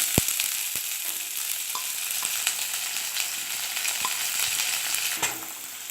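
Spices, chana and urad dal and sliced big onions sizzle steadily in a pan for hotel-style poori masala, with a few sharp scraping clicks as they are stirred; no voices.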